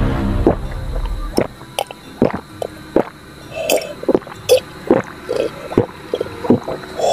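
A person gulps 500 ml of water fast in a timed challenge, with rhythmic, close, wet swallowing sounds repeating roughly twice per second over a quiet background.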